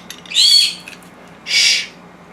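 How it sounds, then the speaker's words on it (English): Poppy, a pet bird in a home kitchen, gives two loud, shrill squawking calls close by, separated by a short pause, with no talking over them. "Don't mind the bird."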